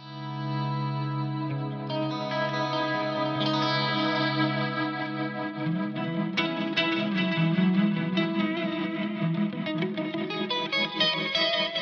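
Sustained electric guitar chords drenched in reverb from a Plex reverb into a tremolo, with a wavering, pulsing tremolo, later joined by brighter picked notes; no voices.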